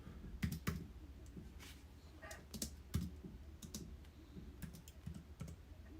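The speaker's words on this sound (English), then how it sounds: "You can just type numbers in here." Numbers tapped on a MacBook Pro keyboard into a calculator app, quiet scattered key clicks in irregular bursts, close but faint, with no voices.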